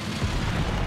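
Ammo rack explosion of a T-44 tank hit by an E-100 in World of Tanks: a loud, dense, rumbling blast that fills the whole moment without a break.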